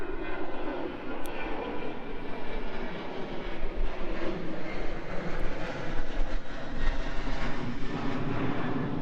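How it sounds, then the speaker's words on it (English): Fixed-wing airplane passing overhead near a pump track trail, a steady broad engine roar that stays loud and continuous throughout, with no talking. "So here comes a plane."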